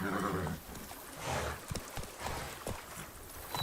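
Horse hooves clip-clopping at a gallop in The Witcher 3: Wild Hunt – Blood and Wine, a rapid irregular pounding near the listener, with a whinny-like sound and a brief call in the game.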